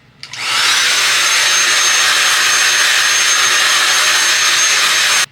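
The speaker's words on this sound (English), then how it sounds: "So I'm gonna go on with my handheld dryer." A handheld hair dryer running on its highest air setting with the lowest heat, blowing a loud, steady broadband whoosh. It starts abruptly and holds even for about five seconds before cutting off, with no talking over it.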